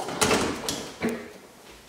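A folding closet door in a leased residence on Church Street is moved, giving a few short, fairly close clattering slides and knocks with quiet room tone between them and no talking.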